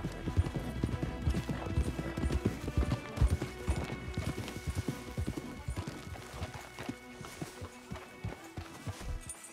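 Horses in the video game Red Dead Redemption 2 clip-clop in a steady, dense rhythm of hoof strikes, with an occasional neigh mixed into the trotting.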